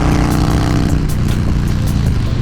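Harley-Davidson Dyna Lowrider S motorcycle with a six-speed gearbox and aftermarket exhaust, riding with a loud, steady engine rumble throughout, heavy low throttle drone close up with no talking.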